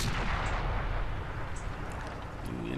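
A tank takes a shot in the World of Tanks video game, a muffled heavy boom with low rumbling engine noise underneath, fairly quiet and continuous without any voices.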